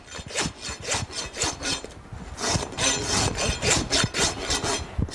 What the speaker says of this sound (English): rasp the foot.